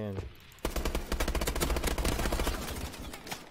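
Rapid automatic gunfire in Call of Duty: Advanced Warfare, a loud sustained burst of fast, evenly spaced shots lasting about three seconds after a brief moment of quieter sound.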